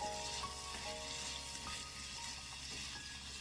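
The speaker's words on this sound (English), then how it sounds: "then you want to saute that" Thyme and dried parsley sauté for corn muffin stuffing, giving a faint but steady, even hiss of frying with no distinct stirring strokes; nobody talks.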